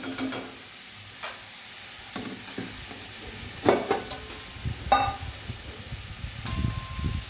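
A spoon scrapes and stirs through bitter gourd frying in a pan as turmeric, chilli powder and garam masala are mixed in, giving a soft steady sizzle under intermittent close scraping strokes and a few light clinks, with no talk.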